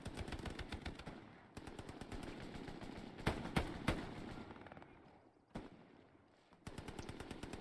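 Rapid bursts of machine gun fire in the Hell Let Loose video game, an MG firing near Dructo, loud and sustained with brief pauses and a few sharper single shots in between.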